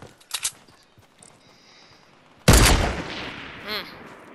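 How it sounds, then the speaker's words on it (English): Minigun fire in a shooter video game bursts in suddenly as a loud, dense rattling barrage that then trails off, after a quieter stretch of scattered distant shots. "Yeah, that's got a minigun. Whoever's firing like that is."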